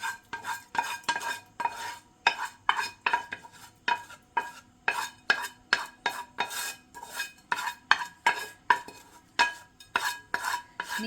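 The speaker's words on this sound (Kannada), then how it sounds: "ನಾನು ಇಲ್ಲಿ ಸಪ್ರೇಟ್ ಬೌಲ್ಗೆ ಹಾಕ್ಕೊಂಡು ಕಲಿಸ್ಕೊತಾ ಇದ್ದೀನಿ" A spoon mixes soft cooked curd rice in a separate bowl, giving a steady rhythm of close clinks and scrapes against the bowl, with no talking.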